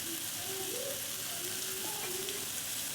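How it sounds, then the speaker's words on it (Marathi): Leftover rice base sautéing with chili powder, spice mix and coriander, a steady close sizzle and frying hiss running throughout with faint stirring scrapes and no talk. "व्यवस्थित परतून घेऊ"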